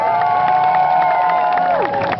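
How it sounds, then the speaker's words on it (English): Crowd cheers and shouts loudly and continuously as a torch goes out, a dense roar of voices with a whistle-like tone that slides downward near the end. "torch goes out, the crowd goes crazy"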